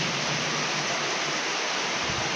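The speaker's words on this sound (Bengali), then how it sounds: "কি ভালো লাগছে বৃষ্টি।" Steady rain falls outside an open window, a dense, even hiss with no breaks and nothing else standing out.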